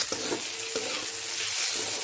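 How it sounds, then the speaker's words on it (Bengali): Soaked Gobindobhog rice frying with spices in a pan, a steady close sizzle with two or three spoon scrapes while stirring, no voices. "আতপটা দিয়ে আমি কিছুক্ষণ আতপটাকে ভেজে নেব।"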